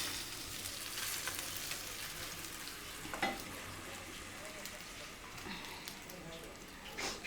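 Pigeon meat fries in plenty of rendered oil in a home kitchen, a soft continuous sizzle with occasional stirring scrapes and clinks, fairly quiet, with someone talking over it.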